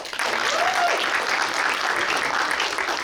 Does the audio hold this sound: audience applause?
yes